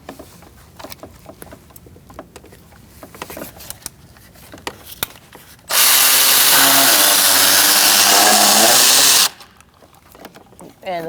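A socket works on E10 bolts holding ground straps during an intake manifold job on a 2008-2014 Mercedes-Benz C300 3.0L V6, with scattered clicks and taps, then a loud sustained burst of a few seconds.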